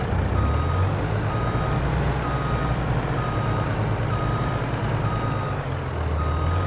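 A truck reverses in Farming Simulator 22 on a snowy winter farm, its backup beeper pulsing steadily over a continuous low diesel engine drone, loud and close with no talk.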